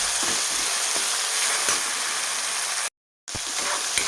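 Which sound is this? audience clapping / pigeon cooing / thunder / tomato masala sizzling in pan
tomato masala sizzling in pan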